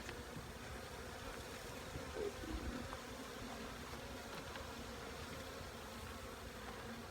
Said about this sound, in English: this is where the bees might get really mad at me